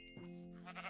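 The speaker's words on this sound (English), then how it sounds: "Sheep." A Minecraft sheep gives a single short, wavering bleat, close and clear over quiet game background sound.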